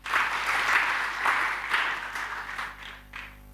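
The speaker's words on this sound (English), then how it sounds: "Let's give him a big round of applause for that" Audience applause at a conference session on forests, a steady room-filling patter that slowly thins and tapers off over a few seconds.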